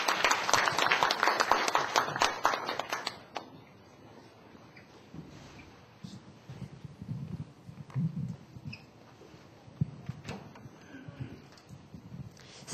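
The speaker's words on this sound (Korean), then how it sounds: "박수 부탁드립니다." An audience at an evening church camp session gives a short burst of applause, which fades after a few seconds into quieter room noise with scattered movement.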